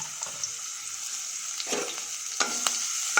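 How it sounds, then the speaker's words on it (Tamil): Fennel seeds splutter in hot oil with a light, steady sizzle, broken by a few sharp pops and crackles toward the end, close and fairly quiet with no talking. "சோம்பு நல்லா பொரிஞ்சு வரட்டும்"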